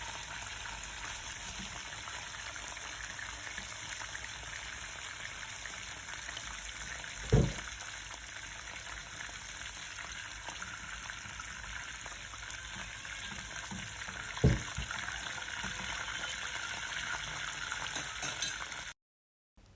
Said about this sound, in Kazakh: Екінші жағында жақсылап қызартып қуырып аламыз.